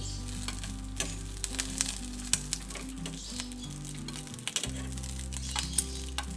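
Eggplant slices frying in a pan, a constant crackling sizzle dotted with sharp pops, close and clear over quiet background music.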